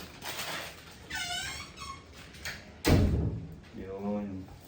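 A door creaks with drawn-out wavering squeaks, the hinge whining several times with a bang partway through as the door is worked open or shut, alongside a voice speaking nearby.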